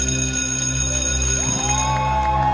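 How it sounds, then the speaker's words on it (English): Bells ringing over a steady crowd din at a masked wrestling match as the bout ends, bright repeated tones sustained through the noise. "you hear the bells ring"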